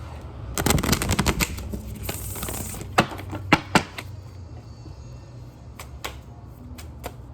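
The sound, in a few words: shuffling a deck of cards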